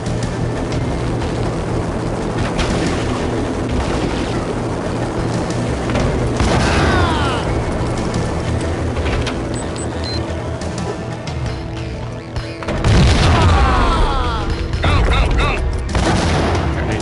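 Grenade explosions in the video game Max Payne, heavy booms among continuous gunfire and game noise, with one big blast near the end.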